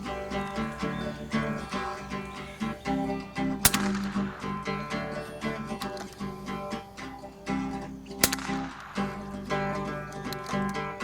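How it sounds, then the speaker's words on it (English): Stevens 22/410 combination field gun firing, with two sharp, loud reports standing out about four and a half seconds apart over a steady, busy outdoor background. "Third shot."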